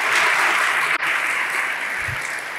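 A church audience applauds loudly for the love of God, a dense, continuous wash of clapping that holds strong for the whole stretch with one brief dip.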